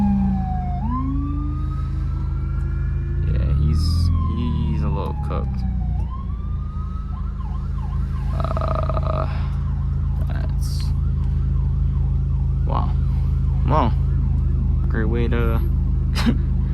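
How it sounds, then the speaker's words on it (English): An ambulance siren wails and yelps behind a moving Genesis Coupe, rising and falling loudly throughout over a heavy rumble of engine and road noise, while the driver talks. "there is an ambulance behind us"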